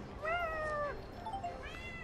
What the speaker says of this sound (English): Kitties.